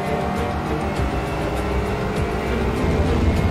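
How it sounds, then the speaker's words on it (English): An Aston Martin GT4 race car at speed in the iRacing sim at Sonoma, its engine droning loud and steady throughout with a gritty, even tone and no talk. "Let's listen to the race car. Some of that sweet Aston Martin music."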